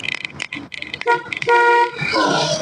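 A car horn honks during a driving lesson on a road, two short toots then longer blasts close by, with engine noise and brief voices around them.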